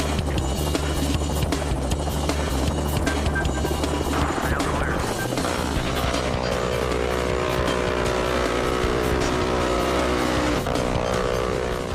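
An M134 minigun fires at target vehicles in desert dunes at night, a dense, continuous roaring buzz of rapid fire that stays loud and unbroken throughout, with engine-like rumble underneath.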